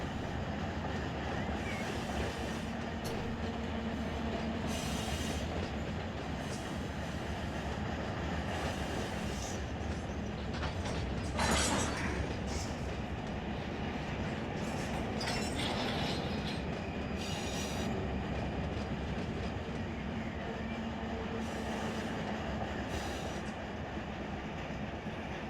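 A freight train of loaded boxcars rolls steadily in Run 8 Train Simulator, a continuous rumble with intermittent wheel squeals and clanks, moderately quiet and without talk.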